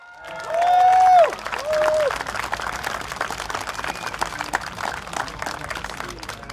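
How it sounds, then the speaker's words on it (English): Applause and crowd noise fill an outdoor political rally at Choa Chu Kang Stadium, loud and sustained, with a brief amplified voice rising over it near the start before the clapping and cheering continue steadily. "we can a round of applause please to invite our youngest candidate this slate, Arifin"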